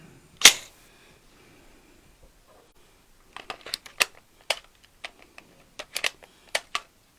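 An AR rifle gets a function check: one sharp metallic snap, then after a pause a series of close, crisp clicks and clacks as the action is cycled and dry-fired.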